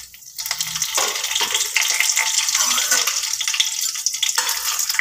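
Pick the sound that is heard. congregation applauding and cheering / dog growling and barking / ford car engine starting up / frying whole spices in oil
frying whole spices in oil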